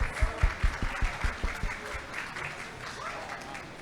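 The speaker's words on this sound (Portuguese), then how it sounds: "Palmas, por favor." Applause from an audience at an energy and technology forum, starting with a run of distinct loud claps that quickly thin into a softer, fading patter, with faint room murmur beneath.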